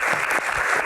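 Studio audience clapping at a talk show, a dense, loud burst of applause filling the whole moment with no voices over it.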